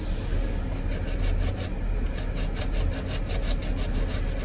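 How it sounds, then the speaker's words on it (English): A knife makes crisscross cuts through an onion on a board while three-meat spaghetti is being prepared, giving a steady scraping, rasping texture with quick repeated strokes, close and fairly loud, with no talking. "you want to go crisscross from the onion like this"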